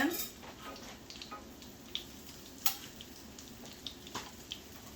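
Canned salmon patties with a little onion fry in a pan, a soft steady sizzle with occasional pops and small clicks of utensils, fairly quiet and close.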